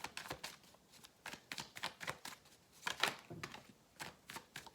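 Tarot cards are shuffled in quick, crisp riffling bursts, each a short papery flutter, repeating in an uneven rhythm at close range and fairly low volume, with no talking.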